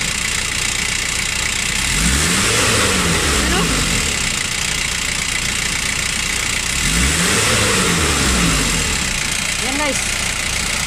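Diesel engine with a newly installed injection pump revved twice with the accelerator, each rev rising and falling in pitch over a loud steady idle, with people talking nearby.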